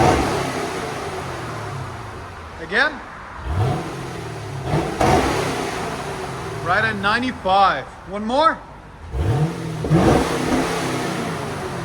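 A 2010 Chevy Camaro SS with a 6.2L V8 and a Carven TR Series exhaust revs in short, sharp bursts that rise and fall several times, with a quick cluster of blips in the middle, between brief spoken remarks nearby.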